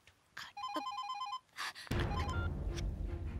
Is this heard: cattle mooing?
no